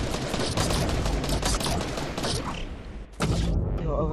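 Sustained bursts of gray assault rifle fire in Fortnite, dense and loud, run continuously for several seconds with a brief break near the end before firing resumes.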